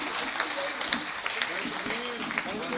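An audience claps at a Hindi poetry gathering, a short burst of applause running under a speaker's voice throughout.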